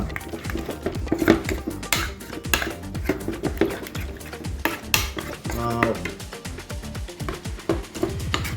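Masala spices being mixed with oil in a bowl, with repeated clinks and scrapes of a utensil against the dish and busy, uneven stirring close by, continuous throughout.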